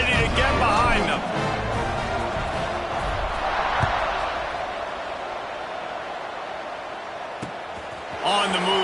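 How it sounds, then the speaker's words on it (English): A college football stadium crowd at kickoff in a tied third-quarter game sends up a steady, roaring wash of cheering that swells briefly at the start and end, with a commentator talking over it. "this crowd now ready to get behind them"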